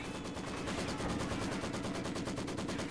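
Sustained heavy machine gun fire in the Company of Heroes strategy game, a dense, rapid rattle of bursts running without a break at steady loudness, with no voices over it.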